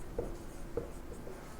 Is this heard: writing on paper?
yes